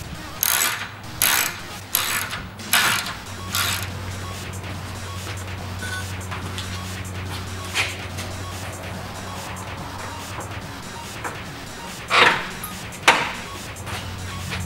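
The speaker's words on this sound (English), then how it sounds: "put them on the back, nut on and tighten them down" A ratchet tightens nuts that clamp a Ford emblem to the mesh of a Royalty Core grill, with a run of quick, close clicking bursts early on, a steady hum beneath, and two more sharp clicking bursts near the end.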